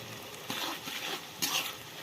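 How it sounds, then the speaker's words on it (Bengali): Onion paste frying in a pan for Bengali-style chicken curry, a quiet continuous sizzle with two brief bursts of brighter spattering as it is stirred, close up and without talk. "এটাকেও কিন্তু ভালোভাবে ভেজে নিতে হবে"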